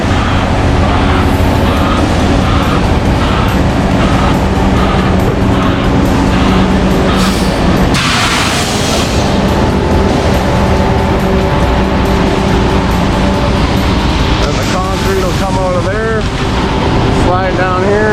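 The loaded drum of a concrete truck turns at a concrete pump, a loud, continuous mechanical rumble and churn that runs without a break and is joined by a brief whoosh and warbling tones near the end.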